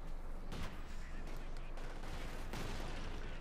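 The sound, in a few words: gunfire in Company of Heroes 2 video game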